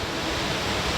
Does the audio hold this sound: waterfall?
yes